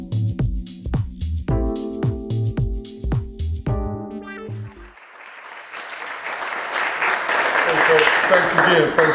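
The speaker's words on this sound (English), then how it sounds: "We're really not deserving of the applause, but thank you." Audience applause at a talk show swells from around the midpoint and builds to a steady, loud, dense clapping that carries to the end, following an opening stretch of strong tonal sound.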